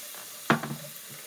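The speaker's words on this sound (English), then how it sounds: "I'm going to stir this around." Seasoned food sizzling in a pan as it is stirred, with a soft steady fry under a sharp scrape of the utensil followed by a couple of fainter stirring knocks.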